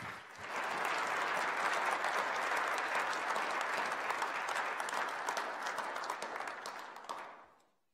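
Audience applause for a panel at the close of a cyber career session, a dense, steady wash of clapping from many hands that holds evenly for about seven seconds before tapering off at the end.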